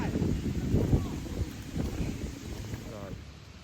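Wind gusts buffet the microphone in low rumbling bursts on a boat, fairly loud and close, with faint water and background sounds beneath.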